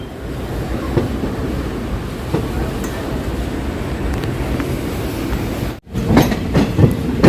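The Malabar Express is hauled toward the yard beside a standing train. A continuous rolling rumble with rhythmic wheel clatter runs throughout, briefly cut by a sharp dropout near the end, followed by clanking and a faint squeal.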